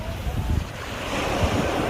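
Ocean surf at Delray Beach rushes and breaks steadily in a dense, continuous roar, with wind buffeting the microphone and no clear voices.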